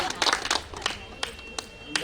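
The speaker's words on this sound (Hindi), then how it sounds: "एक बार जोर से ताली बजा के हंसेंगे।" At a religious gathering on a Braj pilgrimage, a crowd breaks into scattered, uneven claps, with a burst of several close claps early and a few isolated ones after, amid faint voices.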